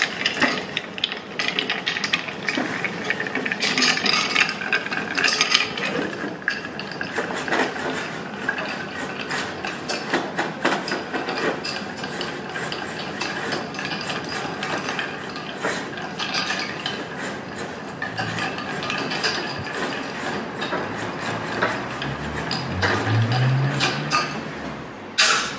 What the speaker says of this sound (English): And a nice stir.